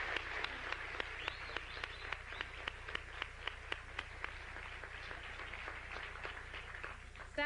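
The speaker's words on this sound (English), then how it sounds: "Let's give her a round of applause." Audience at a 1993 Class Day ceremony clapping, faint and distant, a thin steady patter of many hands with individual claps standing out, over a low constant hum.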